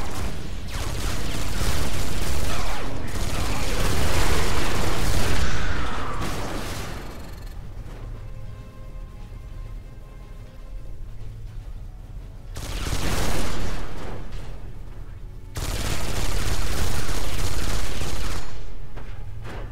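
Bursts of upgraded assault rifle gunfire from the video game Space Siege come as loud, sustained volleys, with pauses and a quieter stretch in the middle before two more rattling bursts, heard alone.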